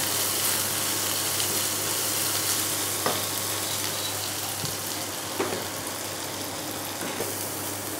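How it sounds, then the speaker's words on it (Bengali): Chopped ginger and chana dal fry in a pan with a continuous, moderate sizzle and a few soft clicks of stirring. "ডালের সাথে ভেজে নেবো।"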